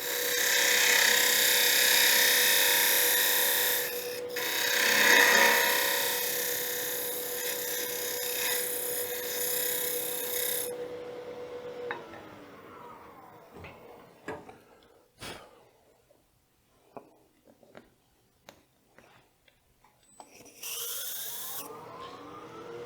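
Wooden box turning on a lathe, a loud sustained whirring hum with steady tonal whine for about ten seconds, then the motor winds down into quieter scattered taps and scrapes of fitting work, followed by a brief burst of cutting near the end.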